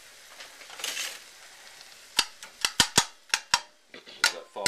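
A huckleberry and jalapeno topping simmering and boiling down in a pan: a soft hiss early on, then a run of sharp, separate pops and bubbles, close and fairly loud.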